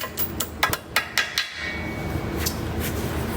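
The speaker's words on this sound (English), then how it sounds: "hammer it up" A hammer strikes a bent cotter pin on a Subaru WRX transmission in a quick run of sharp metallic taps, then stops, leaving a low steady hum.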